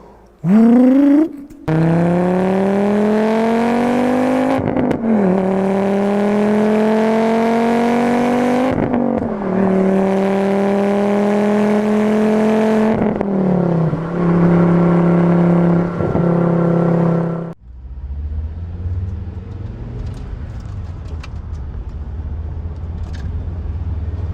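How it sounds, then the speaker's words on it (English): A Volvo S60R's five-cylinder engine revs repeatedly through rising gear pulls, a smooth, loud, warbling drone with brief breaks, then settles to a low, quieter idle. "Five-cylinder Volvo engine sounds really good."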